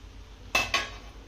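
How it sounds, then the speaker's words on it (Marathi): A lid coming off a pot of cabbage paneer mixture after 10 to 12 minutes of steaming: two quick metallic clanks close by, then quiet. "10 ते 12 मिनिटानंतर यावरचं मी झाकण काढतेय"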